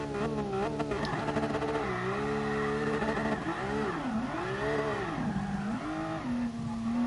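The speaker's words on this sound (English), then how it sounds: "And the car's sounding a bit quiet." Race car engine in GT Sport on the Nordschleife during a drift run, its harmonic pitch droning steadily then swooping up and down as revs rise and fall, loud and continuous with no talk over it.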